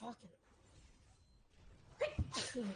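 A single sharp sneeze bursts out near the end, after a muttered word and a brief quiet stretch, with faint background sounds underneath.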